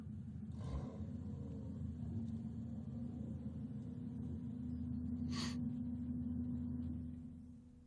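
Lotus Cup race cars pull away on a formation lap at the Zolder circuit, a steady low engine rumble holding throughout and swelling slightly toward the end before easing off.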